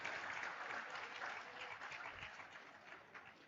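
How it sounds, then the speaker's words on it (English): An audience applauds a speaker at a college TEDx event, a dense, steady wash of clapping that holds throughout and slowly fades slightly toward the end. "Please give a huge round of applause for Mr."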